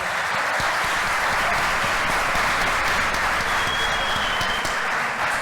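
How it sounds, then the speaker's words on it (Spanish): An audience applauds a speaker at a talk on folklore in early childhood and primary education, loud, dense and steady clapping that fills the room without a break. "yo pediría un aplauso para el ponente"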